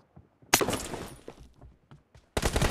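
Gunfire from the battle royale game BGMI in a team deathmatch, a couple of sharp loud bursts with rattling tails, separated by quieter stretches of footsteps and small game sounds.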